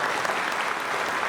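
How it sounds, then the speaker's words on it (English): A school audience of teachers and parents claps steadily in a short, dense burst of applause during a principal's address. "So now you can clap, please"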